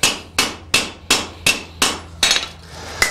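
Eight evenly spaced hammer blows on hot metal at a blacksmith's forge, each a sharp ringing strike with a fading tail, close and loud, ending as the piece cools.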